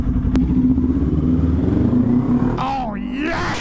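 A motorcycle idles close by on the first ride of the season, its engine holding a steady low throb before the revs sag and waver toward the end.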